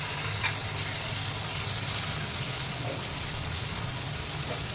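Tomatoes and masala fry over a low flame for a vegetable curry, giving a loud, steady sizzle and bubbling hiss that runs without a break.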